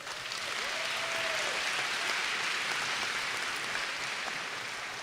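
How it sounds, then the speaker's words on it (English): Sustained applause from a crowd at a university commencement ceremony, a broad, even wash of clapping that holds steady throughout, with a brief whistle-like tone near the start. "Give your friends, family, and the network of people that were part of your journey a round of applause."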